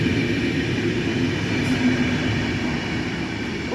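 A train passing through a station in Zawiercie without stopping, a loud continuous rumble of rolling wagons with a dense rail roar, close by, with no voices.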